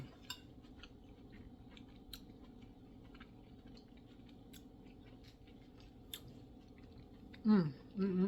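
Soft, close chewing of a spoonful of vegetable risotto, with faint wet clicks over a low background, ending in a brief satisfied hum.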